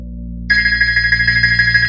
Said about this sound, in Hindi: तभी गोपाल का फोन बजने लगता है।